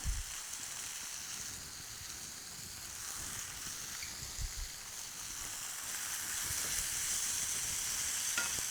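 Beef browns in a pot for a Guinness braised stew, a quiet, steady hiss of frying with occasional low thumps and scrapes of stirring.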